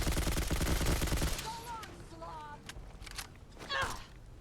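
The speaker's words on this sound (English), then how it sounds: "Gonna shoot this rad roach up the bum until he dies." An OICW objective rifle in Fallout 4 fires a rapid automatic burst at a radroach, loud and dense at first. Then come scattered clicks, whirring tones and someone talking.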